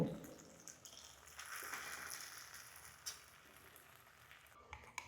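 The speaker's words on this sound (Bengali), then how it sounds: "যখন তেলের মধ্যে পড়ছে কি সুন্দর একটা আওয়াজ হচ্ছে না" Malpua batter frying in hot oil, a steady crackling sizzle with scattered sharper pops and a few clinks from stirring, close and fairly quiet.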